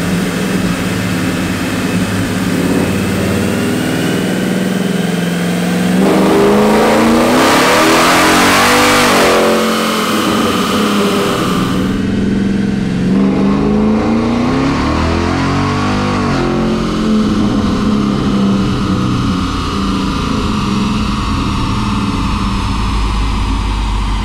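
A Ford F-250 Super Duty with the 7.3L Godzilla engine on a 200-shot nitrous dyno pull roars loud and close, its pitch climbing through the gears with a hissing surge midway, then holding a sustained high-rev bellow.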